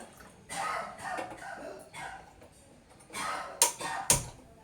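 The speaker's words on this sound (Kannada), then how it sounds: "ಪಕ್ಕದ ಮನೆ ಕೆಮ್ಮದು ನಮಗೆ ಕೇಳಿಸುತ್ತೆ" Several coughs from a neighbouring house nearby but not close, a cluster of rough hacks followed by two sharper, louder coughs near the end.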